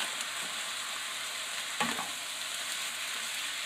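Chicken and Singapore noodles stir-fried in a pan give a steady, close sizzle with a brief stirring scrape near the middle, and no voices are heard.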